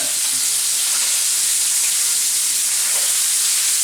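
A porterhouse steak seasoned with salt and pepper sears in a foil-lined, sprayed pan, giving a steady, loud, close sizzle and hiss with no break.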